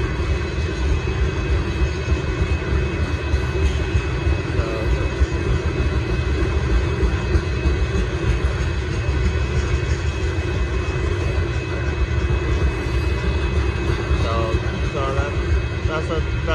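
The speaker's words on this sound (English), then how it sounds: "So that's a regular UP rock train that does pass through here" A northbound Union Pacific rock train rolls past a road crossing in Austin, Texas, giving a steady, loud rumble with rail clatter that holds throughout, while a person talks over it.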